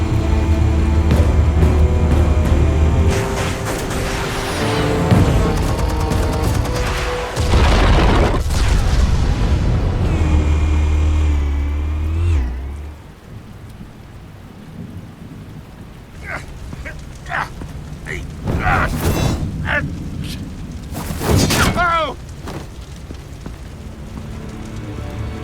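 Explosives detonate in Batman: The Telltale Series with heavy booms and rumbling blasts amid dramatic score, then the din drops to quieter sounds with a few sharp crashes and bursts later on.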